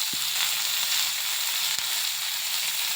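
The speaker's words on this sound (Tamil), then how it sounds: "வெங்காயம், தக்காளி, வரமிளகா, பூண்டு, புளி எல்லாம் நல்லா வறுத்துச்சு, நல்லா வதங்கிடுச்சு." Onion, tomato, red chili, garlic and tamarind fry together in a pan, a close, continuous sizzle with a couple of sharp pops.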